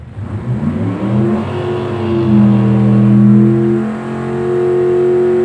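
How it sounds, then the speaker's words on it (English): A rough, weathered 1955 Nomad drag car revs loud and close at a drag week event, its engine pitch climbing through rising harmonics, dipping briefly and then pulling hard again as it launches. "Up comes this great and crustified 1955 Nomad."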